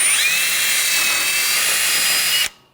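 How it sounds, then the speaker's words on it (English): A power-driven wire brush scrubs corrosion off a rear wheel hub on a 2013–2016 Dodge Dart, a loud, steady high whine and hiss running continuously before cutting off abruptly near the end. "taking a wire brush, you want to clean up the hub surface"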